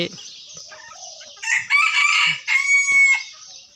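Wild junglefowl crow loudly nearby, a couple of long drawn-out cock-a-doodle-doo calls following some softer clucking and scattered background noise.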